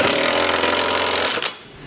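A power tool fitted with a 3/4-inch socket drives trailer hitch bolts on a 2020 Subaru Crosstrek, a steady close whirring buzz for over a second before cutting off abruptly.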